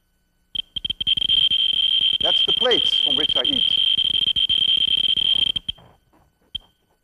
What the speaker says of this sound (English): is a Geiger tube. It can measure the gamma rays that the uranium emits